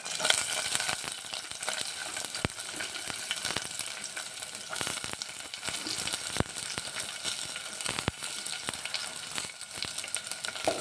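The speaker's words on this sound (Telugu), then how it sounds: "ఆయిల్ హీట్ అయిన తర్వాత దీనిలో పచ్చిమిర్చి, కరివేపాకు వేసుకోవాలి. దీనిలోనే ఉల్లిపాయలు," Green chilies, curry leaves and onions frying in hot oil for aloo kurma, a continuous loud crackling sizzle with occasional sharp pops and stirring scrapes throughout.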